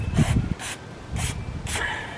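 Brake cleaner sprayed onto Jeep JK brake parts, four short close hissing bursts of aerosol spray separated by brief pauses.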